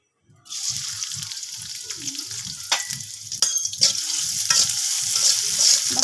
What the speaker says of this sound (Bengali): তেলের ভিতরে আমি দিয়ে দেব পেঁয়াজ কুচানো আর কিছু কাঁচামরিচ কুচি